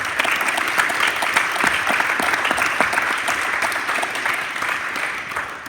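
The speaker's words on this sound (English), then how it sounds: "please give a round of applause for these individuals" An audience at a high school Veterans Day presentation gives sustained, dense clapping that stays even for several seconds before easing off slightly at the end.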